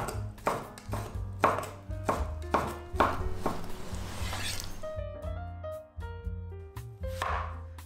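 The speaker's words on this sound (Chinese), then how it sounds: "首先准备500克左右的牛肉，切成就像小拇指粗的条状。" Knife slicing about 500 g of beef into finger-thick strips on a board, steady chopping thuds repeating in a regular rhythm, close and fairly loud, over soft background music.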